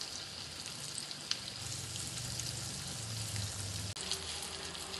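Pomfret fish fries in a pan over a low gas flame, giving a soft, steady sizzle with faint crackles and one brief clatter near the end, no voices.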